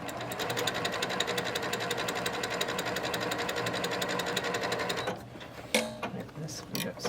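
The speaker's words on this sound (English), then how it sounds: "You guys are watching me sew." Domestic sewing machine stitching a quilt block, a fast, even mechanical whir and clatter up close for about five seconds, then stopping, followed by a few handling clicks and rustles.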